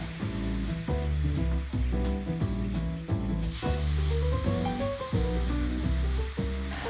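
Savoury Asian pancakes fry in a pan with a soft, continuous sizzle, heard under steady background music.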